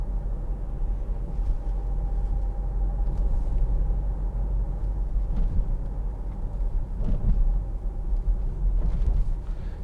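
A 2012 Land Rover Freelander 2 TD4 diesel rolls over a bumpy road, heard from inside as a continuous low rumble with occasional thumps from the surface and no rattles.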